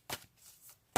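Tarot cards are shuffled briefly and riffled up close, two soft bursts of papery flutter ending in a sharp snap as a card is drawn.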